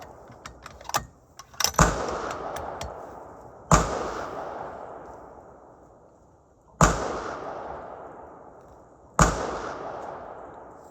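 A Tikka rifle fires four loud, sharp shots at an outdoor target range, spaced a few seconds apart, each with a long, rolling echo that fades slowly, preceded by a few light mechanical clicks.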